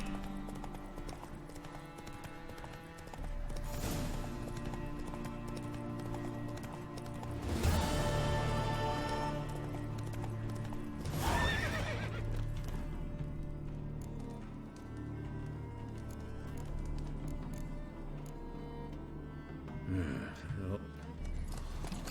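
Roach, the horse in The Witcher 3, gallops with steady hoofbeats and a few neighs, the clatter rising and falling against game music, while someone talks over it.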